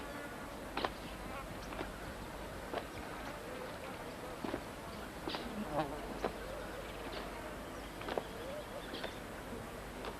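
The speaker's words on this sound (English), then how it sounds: "tiny hummingbirds fly with the buoyancy of a bee, their wings whirring at up to 250 beats per second" Tiny hummingbird wings whir with a soft, bee-like buzz in faint, quiet bursts. Scattered ticks and light rustles are heard over a low background.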